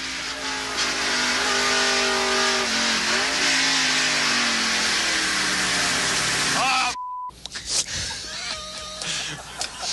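A race car runs off the course after hitting oil on the track, its engine roaring loud and close with shifting pitch, then breaking off abruptly into quieter, scattered mechanical noise and rattles.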